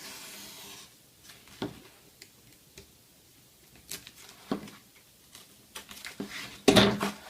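A hobby blade scores a 50% cut along a ruler into a foam wing just above the hinge line for a speedwing build, giving faint scratchy rubbing strokes in short bursts, close up and quiet, ending in a louder scrape.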